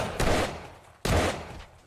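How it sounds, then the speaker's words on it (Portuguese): Two heavy gunshots from the zombie survival video game 7 Days to Die ring out about a second apart, each a loud, sharp blast that decays quickly, with no talking over them. "que tiro gostoso"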